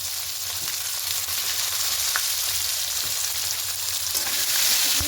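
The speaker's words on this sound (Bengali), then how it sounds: "সব কিছু একটু ভেজে নেব।" Chopped onion and dried red chili fry in hot oil, giving a steady, loud, close sizzle that continues without a break, with faint occasional stirring ticks and no talk.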